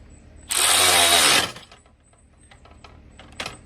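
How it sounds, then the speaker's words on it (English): A 12 volt DeWalt cordless power ratchet drives an Allen head bolt while installing an anchor winch on a pontoon boat, giving one loud whirring burst of about a second, followed by faint mechanical clicks and a short final whir. "Then I'm going to use my nice 12 volt DeWalt ratchet"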